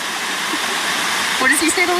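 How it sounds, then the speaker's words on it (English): A waterfall in Bonito, Brazil, roaring as a loud, steady broadband rush close by, with a voice briefly speaking over it near the end. "Another waterfall."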